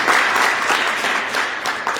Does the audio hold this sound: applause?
yes